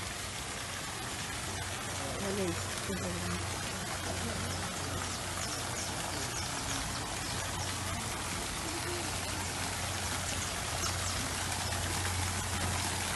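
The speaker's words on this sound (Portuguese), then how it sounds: "A roda d'água aqui." Rushing, splashing water at a water wheel beside a pond on a rural farm, a steady broadband wash with a low hum underneath, and a person speaking briefly over it.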